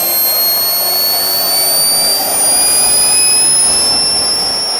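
A small jet engine spools up to speed, a loud, steady roar topped by thin whining tones that climb gradually in pitch throughout.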